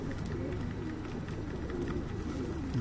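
Pigeons in a loft coo continuously in low, soft, overlapping tones, steady and fairly close, with faint background murmur and no clear speech.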